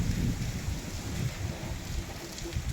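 Dense, steady downpour of stormy, wind-driven rain with a constant roar, heavy and close, no voices.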